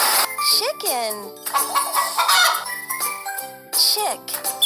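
In a kids' educational animal puzzle game, a cartoon chicken clucks in a few short bursts among chiming jingles and bright game sound effects, with a child-like voice naming animals between them.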